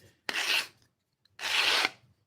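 Two short light drags of a tool along the edge of a wooden box, each a dry rasping scrape lasting about half a second, close and separated by a brief pause, with no talking.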